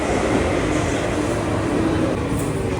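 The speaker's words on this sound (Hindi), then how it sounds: "लो जी, हमारी ट्रेन भी पहुंच चुकी है" A train pulls into a station in Athens, Greece, its broad steady rumble and rolling noise filling the space at close range with no breaks.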